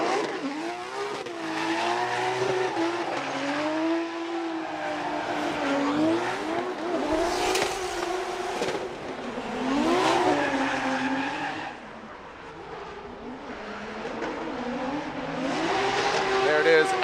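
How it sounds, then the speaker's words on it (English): BMW E36 drift car on a Formula Drift competition run, its engine revving and falling with long tire squeals. It stays loud throughout, mixed with crowd noise and commentators talking. "listen to Adam LZ with his bye run in his beautiful BMW E36"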